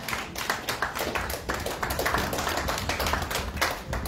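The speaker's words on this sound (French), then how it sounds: "Et acclamez plus fort le Seigneur." A church congregation at a worship service claps in praise, producing dense, rapid, overlapping applause that holds steady at a fairly loud level throughout, with no clear voices above it.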